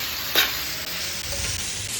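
A spoon stirs salt through aloo gobi, cauliflower and potato, in a pan, giving a brief scrape over a soft continuous sizzle.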